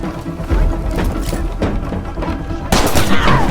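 Gunfire in the video game Battlefield 5 comes as loud, close bursts and dense rapid shots, growing heavier and sharper near the end.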